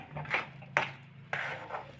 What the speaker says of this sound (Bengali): এইভাবে অনবরত নাড়তে থাকবো, না নাড়লে তলায় লেগে যাওয়ার ভয় থাকবে।